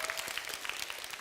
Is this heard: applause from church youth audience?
yes